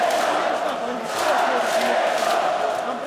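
Hockey fans of Torpedo cheer and chant loudly inside an arena during a home match against Vityaz, a dense continuous crowd roar that stays steady throughout with rising swells.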